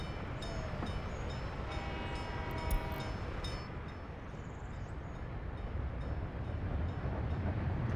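A train passes in the city-building game Workers & Resources, a heavy rolling rumble with a brief horn blast partway through, then continuing mechanical rail noise that grows slightly louder toward the end.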